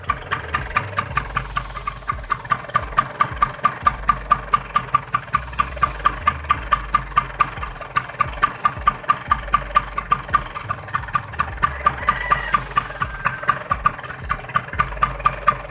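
A 1970 Vespa Super round-head scooter engine idles steadily up close, its rapid even putter continuing throughout with faint ticking on top and no voices.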